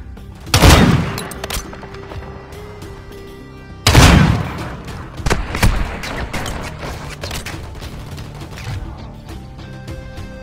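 Gunfire in Call of Duty Mobile: two heavy bursts of rapid shots, each opening with a loud boom, followed by scattered single shots and smaller pops that fade into quieter background game noise.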